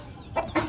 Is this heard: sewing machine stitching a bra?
no